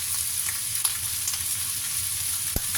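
Rice with curry sauce and pepper is stir-fried in a pan, giving a constant close sizzling hiss with faint occasional scrapes and one sharp tap near the end.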